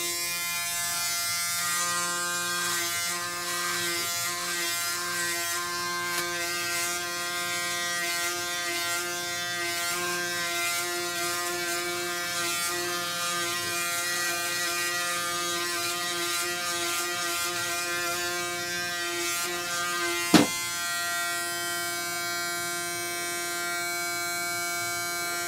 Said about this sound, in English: Now that I have to shave my neck, that's where this pivot comes in good.